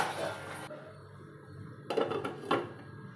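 Metal clinks and clatters as jowar idli are set into a small pot and the lid is placed on, a few sharp knocks after a muffled stretch, with speech earlier.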